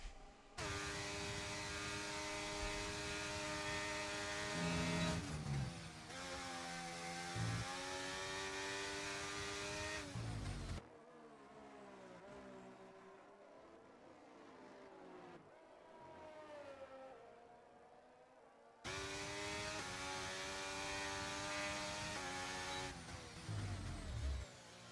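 Race car engine screaming through a flying lap at the Portimao circuit in a racing video game, loud and sustained with shifting pitch through gear changes, dropping to a quieter lower drone midway before the full-throttle howl returns.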